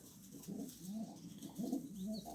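Pigeons cooing in a pigeon loft, soft repeated rolling coos in a few bursts, fairly faint and close, with no talk.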